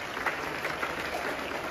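Audience applause at a Children's Day speech: a steady, even wash of clapping from a crowd, moderately distant and continuous throughout, with no talk over it.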